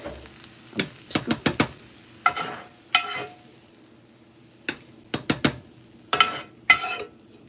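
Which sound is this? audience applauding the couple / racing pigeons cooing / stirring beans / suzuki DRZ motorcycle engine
stirring beans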